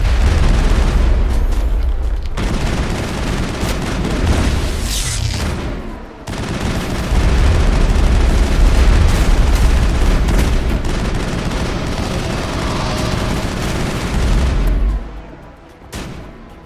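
Sustained heavy gunfire from a gun emplacement in the Mass Effect video game, loud dense bursts and booms rolling almost continuously with brief gaps, no talk.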